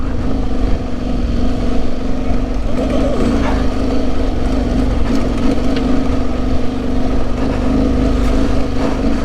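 An Aprilia Tuareg 660 motorcycle engine on a wet, slippery trail ride, a loud steady drone with a constant low hum and slight rises in revs, no talking over it.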